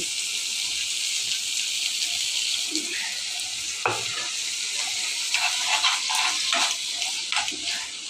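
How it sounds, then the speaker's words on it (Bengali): Water poured a little at a time into a pan of fish curry, a steady sizzling hiss with bubbling and splashing that grows busier toward the end, close and without speech. "এখন আমি একটু করে জল দিয়ে দিচ্ছি"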